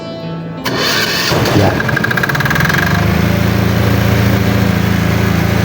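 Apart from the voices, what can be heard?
Kipor generator engine starting and running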